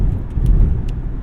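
A front wheel drive car drives a potholed snowy Michigan road, a low heavy interior rumble with a few sharp knocks and thumps as the wheels hit holes.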